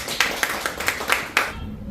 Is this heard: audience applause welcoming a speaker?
yes